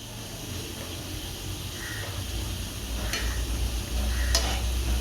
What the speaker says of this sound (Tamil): பொன்னிறமாக வர அளவுக்கு பொரிச்சு வந்து எடுத்துப்போம்